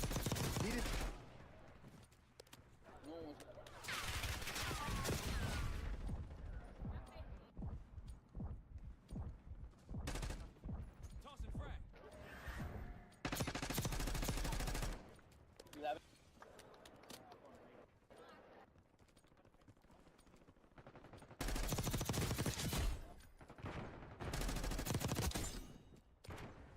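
SMG gunfire in the video game Call of Duty: Black Ops 6 comes in several loud rapid-fire bursts separated by pauses, with people talking between and over the shots.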